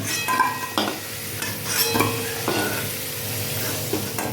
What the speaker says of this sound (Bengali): নতুন আলু তো একটু ভালো করে ভেজে নিলাম